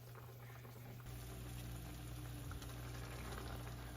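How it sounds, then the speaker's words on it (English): Rabbit stew with coconut water simmers steadily in a pot, a continuous low bubbling hiss with a faint hum underneath, steady and close with no voices. "I'm gonna let that simmer for probably another 45 minutes."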